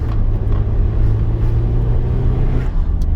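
A 135 bhp MG TF sports car engine drones steadily while driving, a loud, continuous low rumble with slight rises in pitch, close and with no voices over it.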